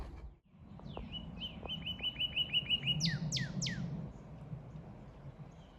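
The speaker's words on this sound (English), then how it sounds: "It's a northern cardinal up there." A northern cardinal sings in Florida scrub at Seacrest Scrub Natural Area, Boynton Beach. It gives a run of quick repeated chirps, then several louder down-slurred whistles, moderately distant over a low outdoor hum.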